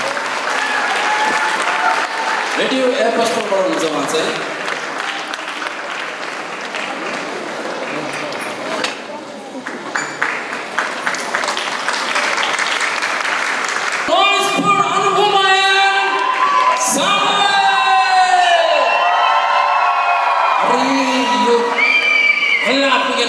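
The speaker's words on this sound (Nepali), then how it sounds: "अननोन भाइको निम्ति बिहान ताली बजाऊ" A crowd claps and cheers at a worship concert in Pokhara, with dense, steady applause throughout. Someone talks over it on a loud microphone, and the cheering swells louder in the second half.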